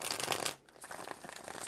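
Tarot cards riffled and shuffled in a dense papery burst, a short pause, then lighter flicking and shuffling continuing, close and fairly quiet with no talk.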